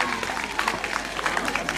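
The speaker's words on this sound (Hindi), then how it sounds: "कृपया करके जोरदार तालियां बजाएं।" An audience claps at a college fresher party at Govt PG College Chamba, a dense, steady patter of many hands with crowd noise, heard under a voice addressing the crowd.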